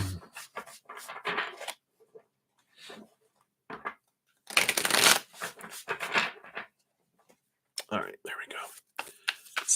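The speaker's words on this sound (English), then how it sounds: "Let me shuffle these up here again." Tarot cards being shuffled during a live reading, soft papery riffling bursts that come and go over several seconds, fairly quiet and close, with gaps of near silence between them.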